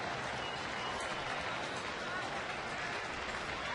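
A huge Wednesday night baseball stadium crowd at a Pirates at Rangers game in Texas applauds in a continuous broad roar of clapping and cheering, with a voice speaking over it.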